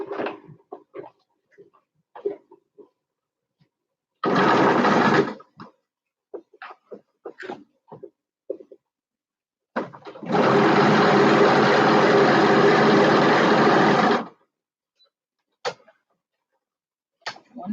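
A serger finishing a seam runs in two loud, close bursts of rapid mechanical whirring, one short and one about four seconds long, separated by quiet gaps with small clicks and handling sounds.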